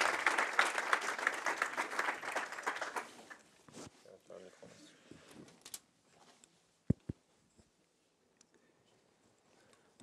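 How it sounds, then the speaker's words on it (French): Audience applause after a talk at a Docker meetup, dense clapping for about four seconds that thins out and fades into a few scattered claps and quiet room noise. "Applaudissements."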